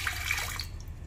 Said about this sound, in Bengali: তো এবার একটা কুকার নিলাম, এতে অল্প করে জল দিলাম।